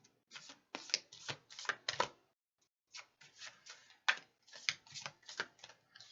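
A deck of oracle cards being shuffled, with quick bursts of crisp riffling and flicking in two clusters separated by a brief pause, close and fairly quiet with no talk.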